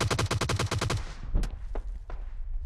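Rapid automatic gunfire in PUBG Mobile, a loud fast burst of about ten shots followed by a few scattered single shots further off.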